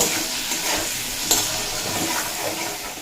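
Potatoes and vegetable stalks sizzle steadily in hot oil with turmeric, a close, continuous frying hiss with occasional stirring scrapes.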